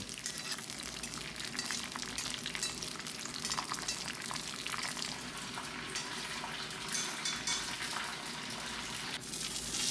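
Mustard seeds, dried chillies and curry leaves frying in hot coconut oil in a pan, a continuous dense crackling sizzle, fairly close and steady throughout with no talk.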